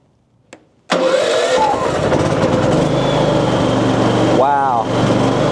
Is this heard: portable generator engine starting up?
yes